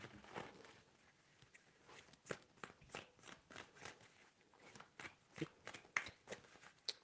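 Tarot cards are shuffled close up in a quiet room, a series of soft papery riffles and slaps in uneven bursts, fairly faint, with no speech.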